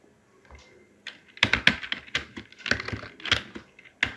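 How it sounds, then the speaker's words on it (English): Keys clacking on a computer keyboard as a Linux command is entered, a quiet pause and then an irregular burst of close, crisp keystrokes. "For that purpose type man"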